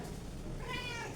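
A cat gives a single short meow, faint against a quiet background.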